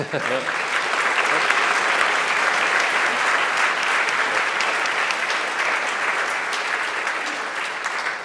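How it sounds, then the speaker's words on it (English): Sustained applause from a conference keynote audience, dense and steady for about eight seconds before tapering slightly at the end. "I will round of applause for David, maybe."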